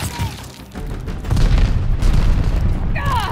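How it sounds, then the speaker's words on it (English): A grenade blast in the Call of Duty: Vanguard Search and Destroy mode booms loudly partway through, a sustained low rumble rolling on under gunfire and game noise to the end, with no speech. "Tossing grenade."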